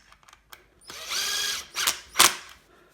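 A small power driver tightens a holster mount in short bursts, with a sustained whir, then two quick ratcheting spurts close by.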